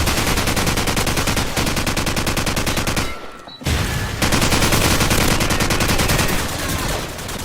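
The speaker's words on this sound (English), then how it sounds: "The AK-47 in COD 4" An AK-47 assault rifle in Call of Duty 4 fires in heavy, rapid automatic bursts, loud and continuous with a booming punch, pausing briefly once partway through before resuming full-auto fire.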